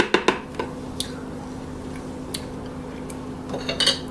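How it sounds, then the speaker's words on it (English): A spoon scrapes and clinks against a container while breaking up blended bananas and pudding, a few sharp ticks and soft squishy scrapes spread over a steady low hum. "I'm just using my spoon to break that up a little bit"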